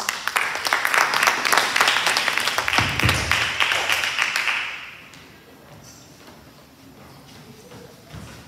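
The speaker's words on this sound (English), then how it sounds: "Our fifth graders give us a big round of applause." An audience at a school Italian heritage celebration applauds fifth graders with dense, loud clapping for about five seconds, then it drops off abruptly to quiet room sound.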